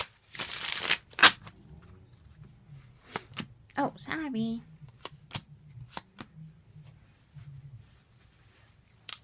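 Tarot cards are shuffled with a dense riffling burst, followed by scattered snaps and taps of cards being handled; a voice briefly speaks partway through.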